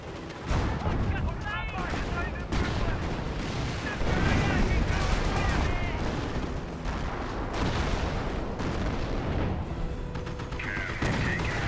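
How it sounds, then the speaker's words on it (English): Dense gunfire and artillery blasts from a Company of Heroes World War II battle, with shots and booms layered continuously and loudly, under game caster commentary. "Still firing away."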